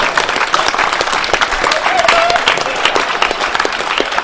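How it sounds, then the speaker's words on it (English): A crowd at a tabletop wargame tournament final applauds and cheers loudly and steadily, with dense clapping throughout and a brief whoop rising above it. "Listen to the crowd go wild."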